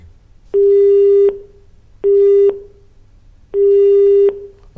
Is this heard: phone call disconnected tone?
yes